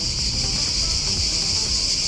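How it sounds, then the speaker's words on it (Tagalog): Steady, dense chorus of crickets chirping continuously, a constant high shrill hum over faint low background noise, with no voices. "Yung mga kuliglig lang yung maingay"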